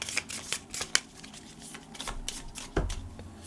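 Cards from a Warpgate combat deck being shuffled on a tabletop, a series of quick riffling bursts and taps at close range, fairly soft, with a few light knocks between them.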